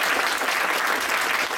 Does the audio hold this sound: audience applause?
yes